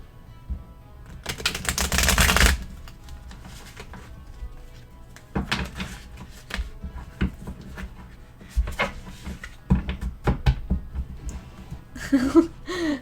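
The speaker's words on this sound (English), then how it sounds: "Ash does not like the shuffling" Tarot cards are shuffled in a quiet room, with intermittent riffling bursts and soft papery clicks of varying length, fairly close, with a few faint background noises between shuffles.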